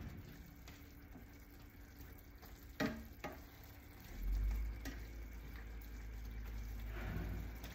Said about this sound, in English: cook ground beef. Get all the pink out on medium heat.